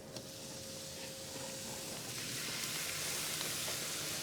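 Avocado oil sizzles in a hot pan with a soft, continuous hiss and crackle that builds slightly over time, fairly faint and with no voices.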